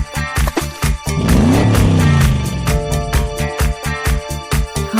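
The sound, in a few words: motorcycle engine revving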